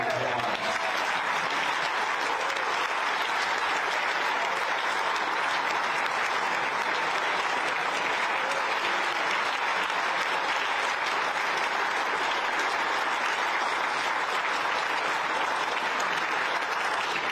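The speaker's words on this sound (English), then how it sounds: "let's give Bob a big round of applause" Steady, full applause fills the room at a golf championship pairings party, a continuous dense roar of many clapping hands held at a constant level throughout with no talking on top.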